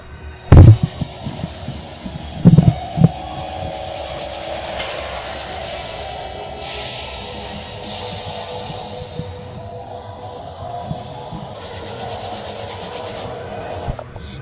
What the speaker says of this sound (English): And let's see the train move.